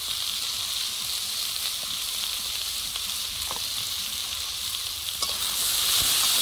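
Salt and turmeric are stirred into food in a frying pan under a constant close hiss of sizzling oil, with faint scraping clicks and the frying growing slightly louder at the end.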